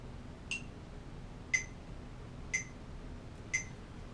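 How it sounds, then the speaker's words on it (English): A metronome clicks four times, evenly about a second apart, as sharp, fairly faint ticks over a low background hiss. There is no talking. "if I set up my metronome"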